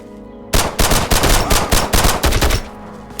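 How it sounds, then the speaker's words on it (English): Machine gun fire in the video game Road to Vostok, a loud, close burst of rapid automatic shots in a tight rhythm, starting suddenly after a quiet moment and lasting several seconds. "Why do you have a machine gun?"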